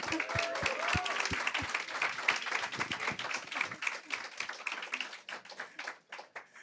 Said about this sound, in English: Let's give a big applause for our top 25